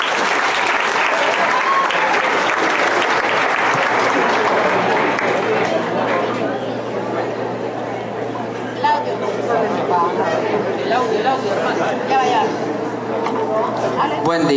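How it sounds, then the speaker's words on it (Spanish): An audience at a Nicaraguan government peace and dialogue event breaks into loud, sustained applause that fills the room, with crowd chatter mixed throughout and the clapping fading slightly toward the end. "Démosle un aplauso."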